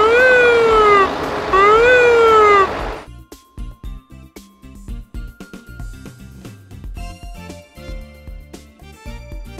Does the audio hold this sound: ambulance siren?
yes